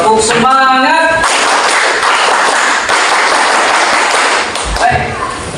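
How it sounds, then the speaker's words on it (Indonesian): A class performing a rhythmic spirit clap, dense group clapping filling the clip, with a voice heard at the start and near the end. "Mulai tepuk semangat."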